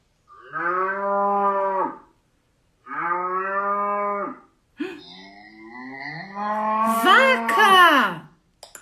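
A cow moos twice in long, droning calls, followed by a rising, wavering moo that swells louder near the end; close and clear.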